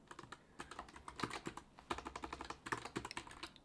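Rapid, uneven typing on a computer keyboard with a slow shift key, a continuous stream of close keystrokes with brief pauses between bursts, no voices.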